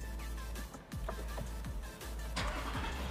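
A Toyota Land Cruiser 300 GR Sport engine cranks and starts, settling into a steady low idle rumble that runs throughout, with a brief rise in activity near the end.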